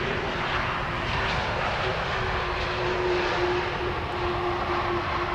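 Arriving airliners at Amsterdam Schiphol Airport give off a steady, fairly loud jet engine roar that holds evenly with no clear peak, heard from a sunny outdoor spot near the runway.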